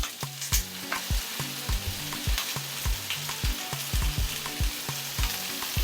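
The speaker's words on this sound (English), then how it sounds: "Sometimes to help the onions cook faster, I cover it for a little while. Let it saute, caramelize." Onions and mushrooms saute in a hot pan with a steady sizzle, broken by regular sharp clacks and scrapes of a utensil stirring against the pan, close and fairly loud with no talk.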